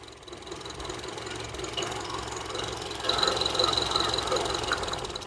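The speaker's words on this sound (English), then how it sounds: "you're hearing the change in the engine when I lift the coil" A car engine with an idle and stalling fault runs at idle while an ignition coil is lifted, giving a steady ticking mechanical rattle that grows slightly louder and rougher partway through.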